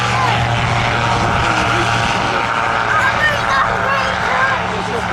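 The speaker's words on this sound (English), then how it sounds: "An example of what is, of course, perhaps the most famous Royal Air Force fighter of all time, but we see it today in its photo reconnaissance guise" A Supermarine Spitfire in photo reconnaissance guise, built in 1944, drones steadily overhead at an airshow, its propeller engine loud and continuous while an announcer talks over it.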